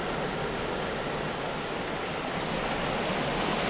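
Rushing water at Imugan Falls, a steady broadband roar of flowing and falling water heard close and continuous with no voices.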